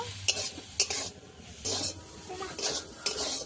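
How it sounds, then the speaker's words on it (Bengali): Boiled green peas are stirred in a pan as the last water cooks off, with repeated scraping strokes against the metal over a soft sizzle, close by and without voices. "এইভাবে আমি মটরশুঁটিটাকে নেড়ে নিয়েছি"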